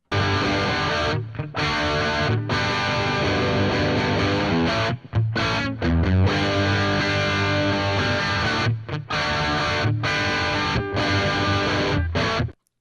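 A heavily distorted electric guitar through a Boss Katana amp, recorded with an SM58 microphone, plays loud, sustained power chords with brief pauses between phrases. There is no talking.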